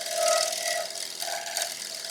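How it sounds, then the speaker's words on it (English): A gouge held closed over shear-scrapes a turned wood bowl spinning on a lathe, giving a brief close rasping whirr with a ringing tone, loud at first and then easing off. "just using the left wing with the gouge closed over"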